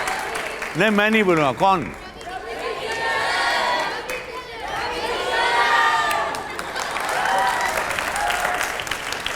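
A crowd at a public event with a Bhojpuri film star and MP claps and cheers loudly for several seconds, with excited shouts mixed in, after a man's brief spoken line.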